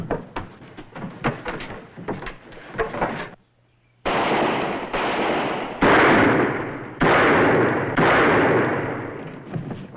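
Gunfire from Buntline's gun in a Western TV episode, starting as a quick scatter of shots and then, after a short silence, giving way to a slow series of loud, booming blasts that each decay into echo.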